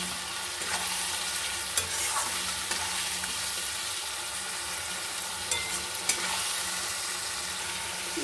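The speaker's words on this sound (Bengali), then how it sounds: "এখন একটু ভালো করে মশলাটাকে কষিয়ে নেব।" Salt, cumin, turmeric and chili powder are stirred and fried in a pan for a spice base, giving a steady close sizzle with occasional scraping clinks of the spoon throughout.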